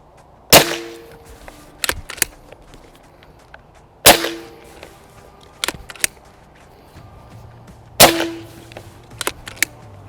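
An air rifle fires three sharp, loud cracks spaced a few seconds apart, each followed by fainter clicks and clatter from handling and reloading, with no voice.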